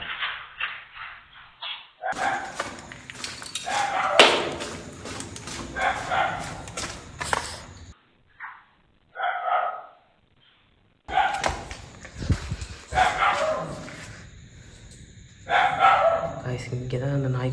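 A dog barks in loud, sharp bursts and whimpers between them in an underground place, with pauses of near silence. People talk at moments in between.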